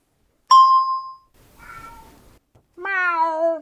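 Three separate meows, the first sharp and bright, the second quieter and breathy, the third long and drawn out, close and alone with no talk.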